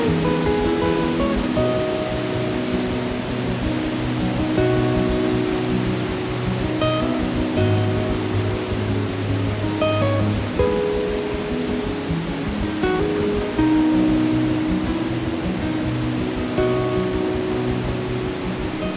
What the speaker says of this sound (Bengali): ছোট কাঠের ব্রিজ দেখতে পাচ্ছেন, এটা লক্ষণগঙ্গা রিভার।